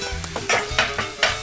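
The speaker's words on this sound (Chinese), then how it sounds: "我们把这个菇啊放这边铁板" Mushrooms seasoned with sea salt and black pepper fry on a hot iron griddle at medium heat, giving a close sizzle broken by quick rhythmic scraping and stirring strokes.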